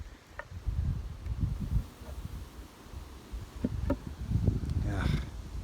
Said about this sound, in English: Oh, look at the bees in that one.